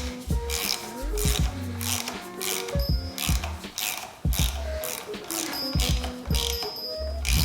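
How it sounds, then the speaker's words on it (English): A ratchet tightens the handlebar end on a 2018 Kawasaki Vulcan 650S during a heated-grip install, giving quick runs of sharp, close clicks in a steady rhythm. "torque it down good and tight"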